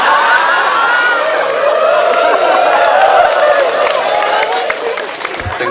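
A loud, sustained crowd at a religious gathering in Korea, with clapping blended into cheering and shouting that holds steady for several seconds, dense and close.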